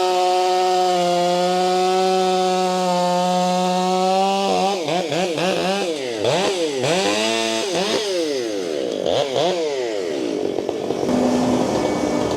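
Chainsaw running close and loud, first idling steadily, then revving and bogging repeatedly as it bites through firewood logs in a series of cuts.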